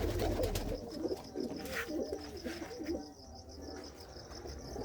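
Pigeons in a loft, a Makhiali hen and a red cock among them, give soft low coos that run steadily under faint insect chirping in a quiet enclosure.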